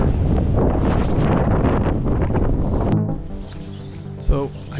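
Strong wind buffeting the microphone at a lake while fishing, loud roaring gusts for several seconds, then easing into quieter background.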